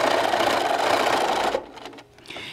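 A sewing machine stitches a drawstring bag with a fast, steady mechanical whir up close, then stops and leaves a few soft handling clicks and rustles.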